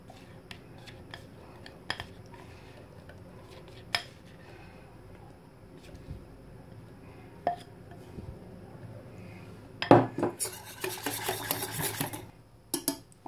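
A utensil scrapes and clinks against a saucepan on the heat while stirring thickening pastry cream, in quiet, irregular strokes, growing busier and louder toward the end.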